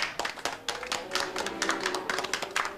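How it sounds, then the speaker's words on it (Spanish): Studio audience of a Cuban comedy sketch show clapping in sparse, uneven bursts, individual claps and taps distinct rather than a full roar, moderately close and fairly quiet. "¡Un aplauso!"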